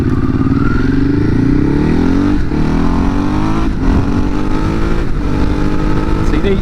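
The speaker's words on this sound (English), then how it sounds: "gassing it and flapping down these, even though they're a little bit bumpy and a bit rutted, it is just a perfect bike for these" A Ducati Hyperstrada 821 is ridden hard along bumpy, rutted country lanes, its engine loud and close, rising in pitch as it is revved and accelerating in continuous surges with little pause.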